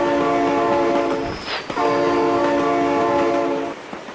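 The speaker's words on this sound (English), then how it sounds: "Oh my god, train!" A train in the BeamNG Drive driving game passes close by while blowing a loud, sustained multi-tone horn in two long blasts with a short break between them, over a steady rumbling roll of the wagons.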